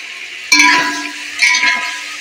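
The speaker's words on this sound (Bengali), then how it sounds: "বেশ কিছুক্ষণ নাড়াচাড়া করবো।" A ground spice paste mixed with salt is stirred in a bowl, and the spoon gives two bright clinks against the bowl about a second apart. Quieter scraping follows each clink, with no talking.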